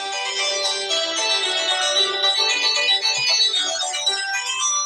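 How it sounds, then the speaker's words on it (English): A phone ringtone plays a tune as a bright, steady electronic melody, loud and continuous, with no voices over it. "Are you guys ready to hear my ringtone?"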